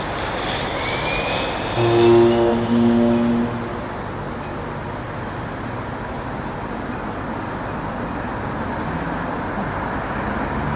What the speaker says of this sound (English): Britannia having a little bit of a honk there